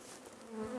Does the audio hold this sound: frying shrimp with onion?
no